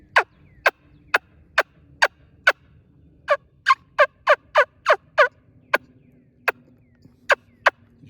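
A mouth turkey call, blown with a sucking, kissing action outdoors while scouting for turkeys, gives a series of sharp, high, evenly spaced yelps and clucks in quick bursts, loud and close against quiet woodland background.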